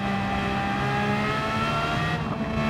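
Car engine in Gran Turismo 7 held at a steady hum as the car rolls into a corner under light braking, continuous and fairly loud with a slight dip near the end, no talk.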